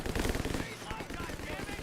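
A machine gun fires in the World War II strategy game Company of Heroes 3, a loud, dense, continuous rattle of rapid bursts with other battle noise and voices underneath.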